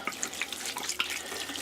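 Water pours into a container of soda ash solution for tie-dyeing, a steady splashing trickle with small bright drips and gurgles, close and continuous without voices.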